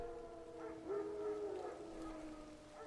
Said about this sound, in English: No. Wild dogs. Yes. More dangerous than wolves.